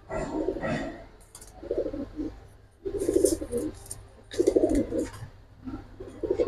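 Pigeons coo in soft, throaty bursts, a few close calls spaced across the stretch with brief pauses between them, over a low background hum.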